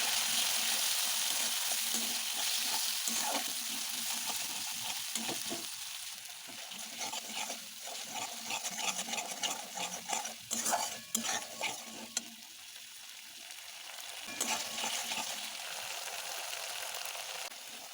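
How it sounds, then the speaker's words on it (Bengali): Ginger, cumin, dried chilli and ground spice paste with capsicum frying in hot oil while being stirred, a steady close sizzle broken by repeated scraping and clinking strokes of the spoon, with no talking. "এরপর আমি মশলাটাকে ভালো করে কষে নেব।"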